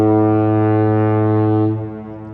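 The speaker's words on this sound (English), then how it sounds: "That is the sound of, hey, the ferry is coming through." A deep, loud ferry horn blast sounds steadily for about two seconds at night by a beach in Port Orchard, Washington, then tapers off with a lingering tail.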